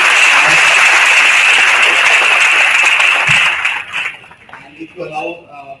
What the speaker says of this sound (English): We can have a huge round of applause.